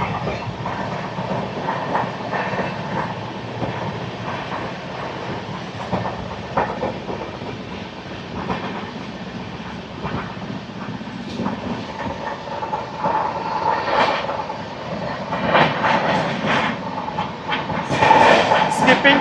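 Howrah Mail 12840, Chennai Central to Howrah, runs along the rails past Bitragunta station with a steady loud rumble and rattling wheel noise throughout, swelling toward the end, with faint voices in the carriage.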